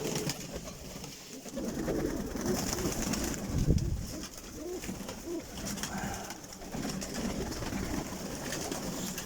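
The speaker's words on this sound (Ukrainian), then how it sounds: "таку колекцію березніговатовських голубей я ще не бачив в своєму житті" Bereznegovate breed pigeons coo softly outdoors amid steady flock noise and rustling, with a brief louder thump of wings partway through, fairly distant and continuous.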